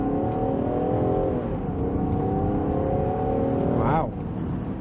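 A 2022 Land Rover Defender 110 X-Dynamic with a 3-liter engine accelerates hard from a standstill toward 60 mph, its engine note climbing steadily through the gears from inside the cabin, with a brief shift-like break near the end.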